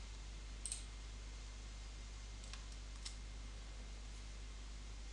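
Faint, sparse mouse clicks, a few isolated taps spread across a quiet stretch with steady low hum, made while editing a table on a computer.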